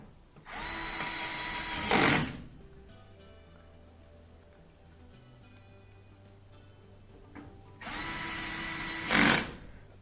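A power drill drives three screws into the back panel of a Whirlpool washer, in two loud bursts of roughly a second and a half each, one near the start and one near the end, separated by quieter handling noise.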